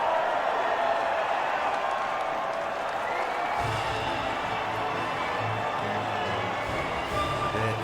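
Crowd noise from a podium celebration in the F1 2019 racing game, a steady wash of cheering and applause throughout, swelling a little partway through, with no clear talk over it.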